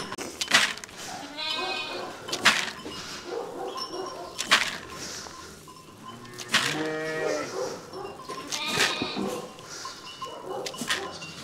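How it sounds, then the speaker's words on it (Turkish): Sheep and lambs bleat repeatedly in a cold farm pen, several loud close calls overlapping at irregular intervals, with muffled farm noise between them. "Bakın sopayla nasıl tutuyoruz biz koyunları."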